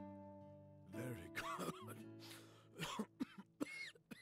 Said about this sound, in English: Some bad coughs.